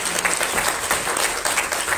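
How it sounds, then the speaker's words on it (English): Church congregation applauding steadily, a dense wash of many hands clapping at even loudness throughout, with no voices standing out. "Thank you for not golf clapping"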